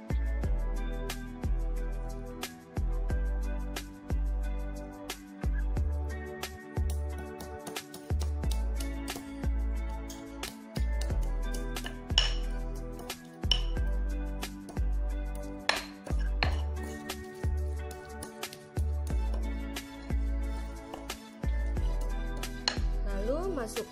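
Shallots and garlic ground in a stone mortar with a pestle, giving a steady series of hard, close knocks and scraping taps that repeat roughly every second for a long stretch.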